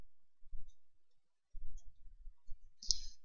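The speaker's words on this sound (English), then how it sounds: "so I'm holding down B, left clicking and dragging" Computer mouse being left-clicked while painting skin weights on a 3D model, giving a few soft, sparse clicks in a quiet room with no talking.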